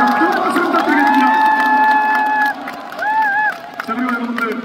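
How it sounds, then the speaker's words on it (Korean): Concert crowd in Daegu cheering for three visiting high school teachers, high shrieks and shouts dominating over scattered clapping, loud and close, with a short dip midway before the cheering picks up again. "여러분 큰 박수 부탁드리겠습니다"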